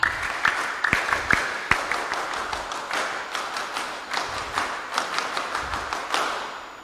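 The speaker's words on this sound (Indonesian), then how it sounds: "marilah kita awali dengan 2 kali tepuk pramuka" Rhythmic tepuk pramuka, the Scout clapping pattern, at a Scout Day ceremony: a group claps sharp patterned beats in short bursts and pauses, fairly close, repeated across several seconds without speech.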